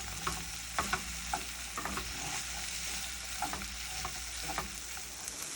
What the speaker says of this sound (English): So in the pan I have about 2 tablespoons of vegetable oil. I'm just going to just add my okra.